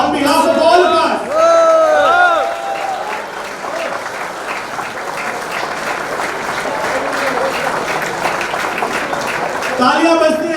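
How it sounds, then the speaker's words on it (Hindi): Loud, sustained applause from a crowd at an event honouring Manya Singh, Femina Miss India 2020 runner-up, with a voice speaking over it near the start and end while clapping continues throughout. "तालियां बजती रहनी चाहिए भारत की इस बेटी के लिए"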